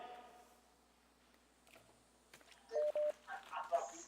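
Telephone line tones during a live stream: a quiet hiss and a few soft clicks, then a short burst of dialing beeps and a louder crackling connection sound near the end.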